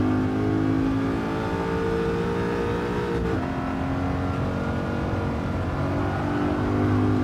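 A BMW Z8 driving in Gran Turismo 7, its engine holding a steady, loud, close drone with a brief drop in pitch near the middle as the revs shift, then continuing evenly.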